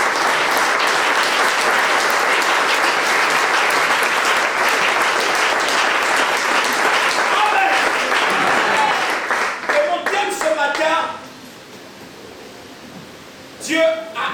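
A church congregation at a Sunday service applauding and cheering loudly in a sustained wash of clapping that fades after about ten seconds, leaving scattered claps and voices.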